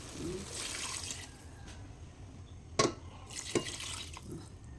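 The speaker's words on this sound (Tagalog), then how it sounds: "Lagyan na natin siya ng tubig." Water trickles and splashes steadily into a cooking pot of chicken tinola, with a couple of sharper clinks and drips partway through; no voices.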